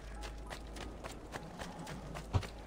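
Horse hooves in Assassin's Creed II, a quick regular clip-clop of galloping steps on hard ground, close and moderately loud, with one heavier thud near the end.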